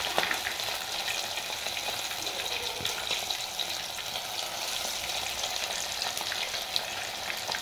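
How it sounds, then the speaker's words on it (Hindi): Fresh fish frying in a pan, a steady dense sizzle with faint crackles throughout, close and fairly quiet, with no voices. "तो माछটা এখন ফ্রাই করব।"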